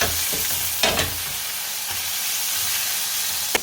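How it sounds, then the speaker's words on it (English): Chicken sizzles and spits in a hot pan, a steady loud frying hiss with occasional clanks of stirring. "get about halfway through frying your chicken"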